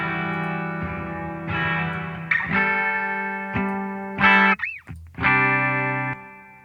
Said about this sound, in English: another very quick digital reverb example